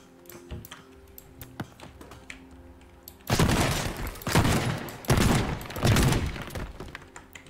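Bombs detonating in the destruction game Teardown: two heavy, booming blasts a couple of seconds apart with crumbling debris rumbling after each, following quieter clatter, without speech.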